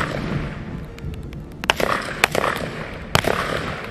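Rifle shots from M4s at the Herrieden German-American partnership shooting competition: three sharp cracks spaced about half a second to a second apart, with steady outdoor rumble between them.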